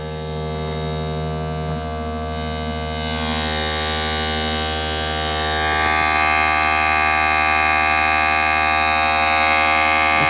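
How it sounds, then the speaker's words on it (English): A small motor running on 5 volts DC inside a homemade pump-in-a-box setup gives a steady, close electric buzz with a strong harmonic hum, growing slightly louder after a few seconds and holding constant to the end. "I'm only using 5 volts DC to run that motor"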